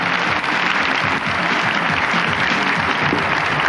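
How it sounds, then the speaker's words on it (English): An audience at a David Copperfield magic show claps in a steady, dense round of applause lasting a few seconds, loud and continuous with no speech over it. "Big round of applause for Brooke."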